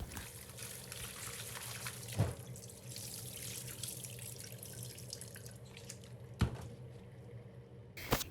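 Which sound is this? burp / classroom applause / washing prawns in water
washing prawns in water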